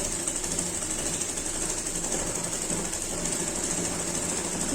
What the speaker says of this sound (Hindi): अब हम इसके किनारे पर इधर सिलाई लगाएंगे और इधर सिलाई लगाएंगे।